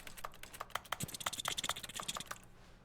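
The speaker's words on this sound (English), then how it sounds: "I love how the clicking is a keyboard sound." Rapid keyboard typing clicks sound in the video game Employee #427, a close, irregular burst of crisp taps and clacks that fades out at the end.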